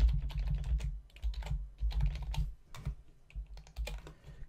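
A computer keyboard clatters close by in quick, uneven bursts of keystrokes as a short name is typed, with brief pauses between words and no speech.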